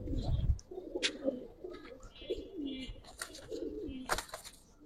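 Pigeons cooing in a red cage, a pair of Dubas Giribaj pigeons. Soft, low burbling coos come from close by, with scattered bird chirps and a few faint clicks and rustles.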